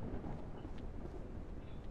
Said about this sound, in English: Oh, thunderstorm.